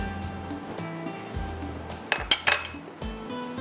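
Garlic being stirred into a wing marinade in a mixing bowl, heard as a few sharp utensil clinks and scrapes against the bowl, close and clear over a steady low kitchen hum.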